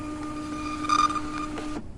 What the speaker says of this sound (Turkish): Kapanmak üzere olan dükkanda birden yazıcıdan bir fiş çıktı.